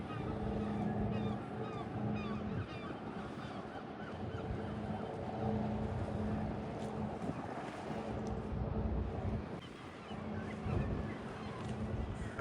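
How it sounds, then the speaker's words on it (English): A fishing boat's engine rumbles steadily as it departs Bridlington harbour, with wind buffeting the microphone and gulls or geese calling in the background. "Here's a fishing boat about to depart"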